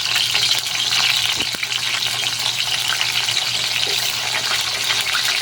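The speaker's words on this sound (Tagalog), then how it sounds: "kumukulo na ito" Okra and eggplant simmering together in a pot give a steady, close bubbling and sizzling hiss that runs the whole time, with a couple of faint clinks and no voices.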